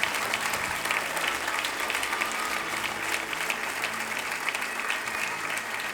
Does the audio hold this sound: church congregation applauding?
yes